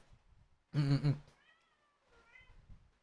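A cat lets out one loud, close meow, followed by a couple of softer, drawn-out mewing sounds in an otherwise quiet room.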